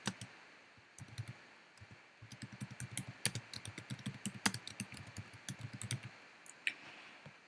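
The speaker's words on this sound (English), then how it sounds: "I'm going to type in the time of our class Zoom meeting." Someone typing on a computer keyboard, a quiet, close run of rapid irregular key clicks with short pauses and a few sharper taps, no talking.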